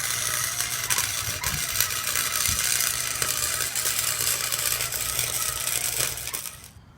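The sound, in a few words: welding gun welding adapter pieces on a kit car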